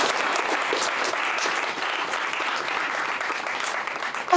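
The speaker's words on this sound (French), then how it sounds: "Est-ce qu'on peut acclamer pour Ibrahim Traoré?" An audience applauds Ibrahim Traoré at a student conference on leadership and ethics in Africa, with steady, dense clapping held for several seconds and no talk over it.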